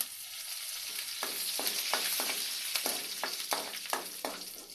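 Curry leaves are tempered in hot oil for buttermilk sambar, giving a steady close sizzle and crackle with a series of spoon stirs and taps on the pan.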